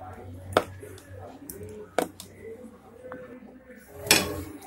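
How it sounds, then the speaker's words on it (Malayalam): A frying pan is set down on a kitchen stove with a few sharp metallic clunks, one clear knock near the start, another midway and a louder clatter near the end, over faint room noise. "ഇതാ നമ്മുടെ പാൻ വെച്ചിട്ടുണ്ട്"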